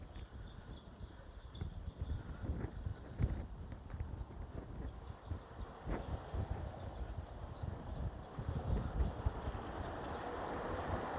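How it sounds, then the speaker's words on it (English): Strong wind buffets and rumbles against the microphone in uneven gusts in Ponta Delgada, São Miguel, Azores, with a broad roar that swells toward the end. "Here is very windy now."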